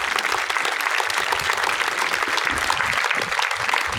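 Dense, steady applause from a crowd honouring volunteers at a Real Madrid Foundation youth football camp at RCPV in Parthenay, sustained and fairly loud with no pauses.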